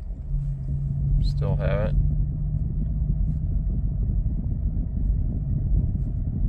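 A car engine holds a steady high idle near 1,000 RPM in a flat parking garage, a constant low rumble with a faint tonal drone, while a person briefly speaks over it.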